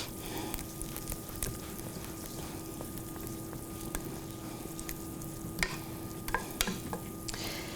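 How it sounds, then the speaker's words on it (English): About two tablespoons of butter melt in a hot pan on the burner, giving a soft, steady sizzle and crackle with a few faint clicks. No one speaks. "So we're going to do about 2 tablespoons of butter. Let that get nice and melted."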